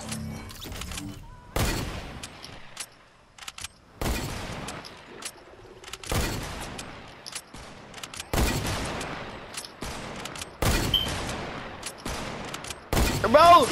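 Gunfire in a Fortnite match rings out in repeated loud bursts, sharp volleys separated by short quiet gaps, with a voice talking faintly now and then.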